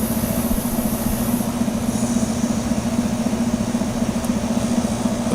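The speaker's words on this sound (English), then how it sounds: "You can probably hear that rumbling coming from the fan motor bearing." A basement air conditioner runs steadily, its compressor and fan motor giving a constant low rumble with a bearing drone and a faint high hiss, loud and unbroken with no talk.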